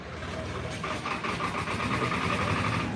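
A Swaraj 855 tractor engine runs steadily at close range at a tractor market in Barnala, its low rumble continuous throughout, with a voice talking over it.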